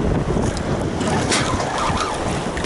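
Strong wind roars across a fishing boat on the water, a loud, steady blustery rush with gusty flutter and faint splashing underneath, continuous and close with no talking.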